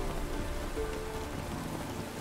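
Steady rain from The Witcher 3: Wild Hunt, a continuous dense patter with no distinct drops or thunder, holding an even level throughout.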